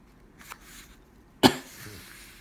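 One sharp, close cough bursts out after a brief quiet stretch with a faint earlier rustle, during a lesson comparing properties.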